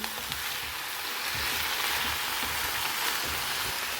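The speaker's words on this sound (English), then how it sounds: "2 tablespoons of light soy sauce, give it a mix." Vegetable noodles in sauce with a splash of light soy sauce hiss and crackle loudly in a hot wok, a dense close sizzle with soft scraping from the stirring.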